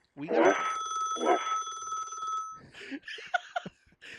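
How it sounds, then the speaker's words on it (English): An electronic telephone ring trills for a couple of seconds during a radio call-in show, then cuts off as someone starts speaking. "We got a phone call?"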